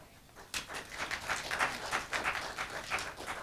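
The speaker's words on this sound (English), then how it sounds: "You don't even know me yet, and you give me some applause." An audience at an adjunct faculty orientation event bursts into applause, a warm swell of scattered clapping from a moderately sized crowd that starts suddenly and holds steady.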